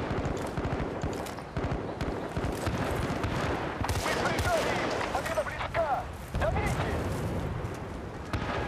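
Gunfire crackles in the video game Battlefield Bad Company 2 during a multiplayer match, rapid bursts and scattered shots of varying distance mixed with explosions, with voices talking underneath.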